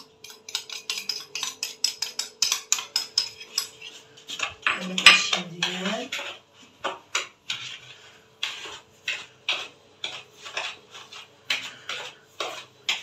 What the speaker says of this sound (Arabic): نحاول نخلطها بالمعلقه